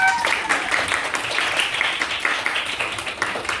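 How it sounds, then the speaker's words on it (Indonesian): A classroom audience claps together in a dense burst of applause, fairly close, fading slightly toward the end. "silakan kita berikan tepuk tangan yang meriah"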